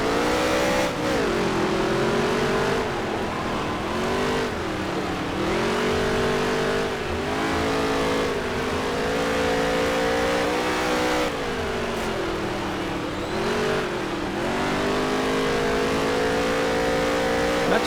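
Race car engines roar continuously in the NASCAR Heat 3 video game, a loud sustained drone whose pitch rises and dips rhythmically through gear changes and corners, with no talk.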